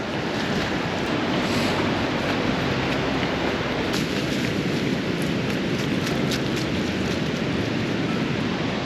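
The Saco River in Maine rushes loud and close during spring runoff, swollen with rain, a dense, unbroken roar of churning water with a faint wind buffet over it.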